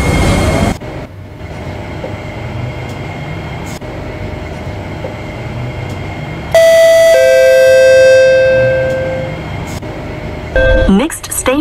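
A Roblox metro train's door-closing chime sounds as a bright multi-tone ding-dong that rings out and decays, loud over the hum of the carriage, with an announcement voice before it.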